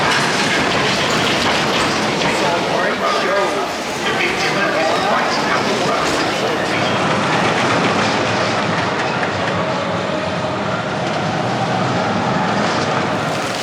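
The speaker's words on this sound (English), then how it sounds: "A classic and iconic roller coaster, 2 trains, no queue" A Big Dipper wooden roller coaster train at Blackpool Pleasure Beach rumbles and clatters along its track, a loud continuous roar with rattling close by.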